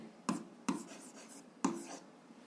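Pen on paper writing out a 7th-grade algebra solution by hand, three quiet distinct strokes or taps spaced across a faint background, no voice.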